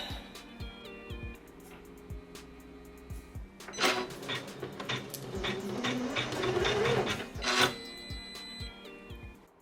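Janome 550E embroidery machine stitching out a name, a rapid mechanical clatter of needle strokes in bursts, with ticking pauses and louder stretches of fast stitching close by.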